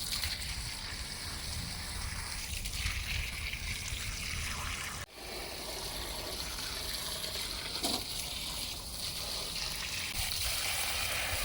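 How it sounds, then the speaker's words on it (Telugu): Water pours and trickles onto potted garden plants, including lemon and flowering shrubs, a continuous soft gushing splash with a brief break midway, fairly quiet and without talk. "అందుకనేసి మళ్ళీ వాటర్ ఇస్తున్నాను"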